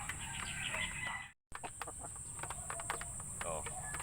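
Backyard chickens cluck and peck at kitchen leftovers close by, with soft repeated clucks and tapping sounds, briefly cut by a short silent gap.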